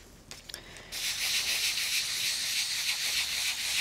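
Brisk, close rubbing over gilding flakes on a card, first a few short taps and brushes, then a continuous hissing, scratchy friction that stays loud with no talking.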